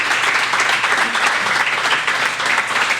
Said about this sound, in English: Thanks for Clapping.